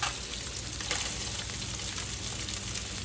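Salmon pan-frying, a close, dense, continuous sizzle with crackling spatter throughout and no pauses.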